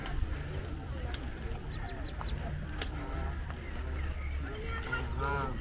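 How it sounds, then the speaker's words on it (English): Canada geese honking nearby at a London lake in short repeated calls over outdoor background noise, with a voice talking underneath at times. "Some more Canada geese."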